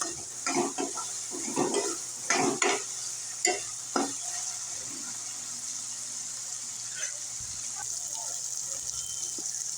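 Kathiyawadi panchkuti dal is stirred in a pan over a quiet steady sizzle, with several scraping, sloshing stirring strokes up front that thin out later.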